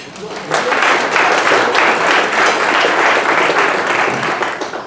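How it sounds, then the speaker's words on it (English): A large crowd at a Greenville Christian Chamber of Commerce meeting gives a sustained, loud round of applause, dense clapping that swells after a quiet start and holds steady for several seconds. "give yourselves a round of applause"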